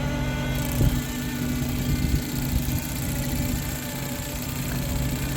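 Tractor engine running steadily in a field during corn planting on a corn-on-corn ridge, a continuous low mechanical drone with vibration, fairly loud and close, with no talk over it.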